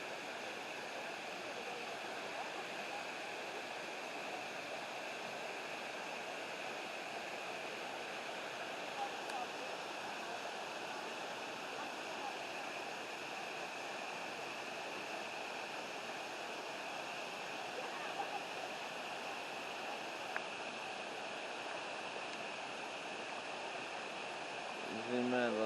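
Steady roar of a waterfall and a large river running nearby, a dense continuous wash of water noise with no clear breaks, heard outdoors on a paranormal outing.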